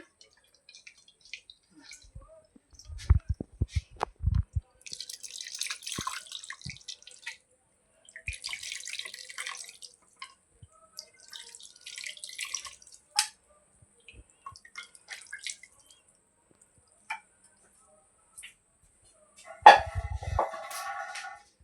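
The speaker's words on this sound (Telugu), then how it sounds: "చింతపండు పులుసు పోసుకున్నాం కదా, వాటర్ పోసేసుకున్నాం" Tamarind juice and water are poured into a pot in several short splashing bursts, separated by quiet pauses and scattered clinks.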